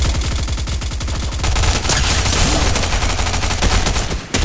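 Rapid automatic gunfire from Fortnite gameplay, a dense stream of loud shots hammering continuously with no pauses and no voices.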